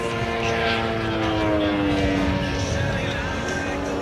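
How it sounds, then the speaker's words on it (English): An Extra 330 and a Laser, propeller aerobatic aircraft, fly at an airshow with a sustained droning engine tone and shifting pitch, moderately distant and constant throughout. "And one of these aircraft is an extra 330."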